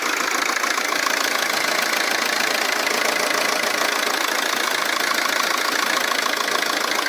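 A car engine runs steadily throughout on fuel injector cleaner, with a continuous mid-pitched drone and a faint rhythmic knock, with no voices present.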